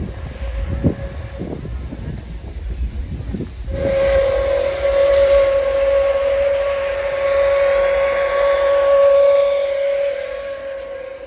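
A steam train at Ushuaia vents with chuffs and hiss, then lets out a long, loud, sustained steam whistle over a rushing background of escaping steam.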